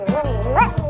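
A small dog gives a short, close, loud yap with a rising, whiny pitch, followed by a quick second yip.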